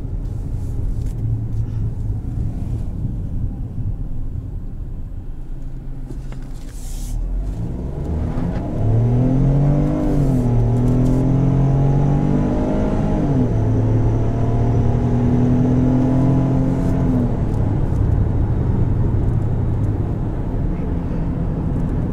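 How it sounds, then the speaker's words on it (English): A Ford Bronco Sport three-cylinder turbo engine accelerating from inside the cabin, its drone rising and shifting in pitch through the gears as it pulls harder midway, with a steady rumble and a voice talking over it. "this is a three-cylinder that pulls harder than some four cylinders. And it makes turbo noises."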